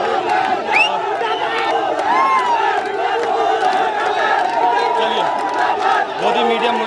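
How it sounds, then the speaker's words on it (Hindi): Large crowd of young protesters shouting slogans against Modi media, a dense continuous roar of voices with raised chant-like calls throughout, loud and close. "मोदी मीडिया मुर्दाबाद के नारे जरूर यहाँ पर लग रहे हैं।"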